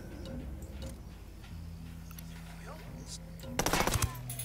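A single sniper rifle shot in the video game Ghost Recon Wildlands, a sharp crack near the end over a low background game hum, with no talk.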